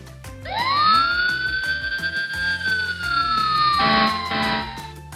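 A loud fire engine siren wails up and holds a long rising-falling tone, with an air horn blast near the end.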